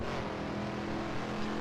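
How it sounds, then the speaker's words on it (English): Steady engine drone of a Shelby Cobra in Assetto Corsa on the Spa circuit, held at constant throttle with a loud, even, buzzy tone throughout. "I love the engine noises in this game."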